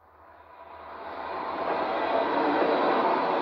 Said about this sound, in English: This train today still goes to Auschwitz.